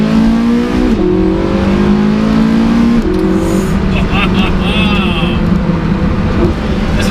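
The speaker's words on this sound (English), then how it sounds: "Listen to the downshift." A Porsche 918 Spyder pulls hard in second gear, its engine note climbing in a loud, close run before dropping through a downshift; a voice talks over it.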